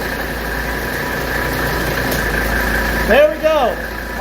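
A 1985 Mercedes 300TD diesel idles steadily as its air conditioner compressor engages near the end, bringing a brief shift in the engine's tone. A voice speaks right at that moment.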